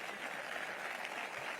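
Applause at a VOX political rally forms a steady, dense wash of clapping from a crowd, fairly faint and distant, with no pauses across the short stretch.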